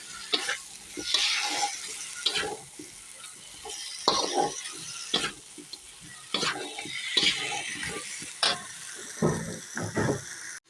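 Chicken pieces sautéing for curry in a pan, with steady sizzling broken by repeated scraping stirs from a utensil, close and fairly quiet, no talking.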